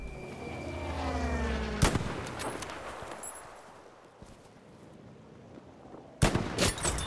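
Two sharp, loud sniper shots from a Krag-Jørgensen rifle in Battlefield V, one early and one near the end, each a crack with a rolling echo over distant battle ambience.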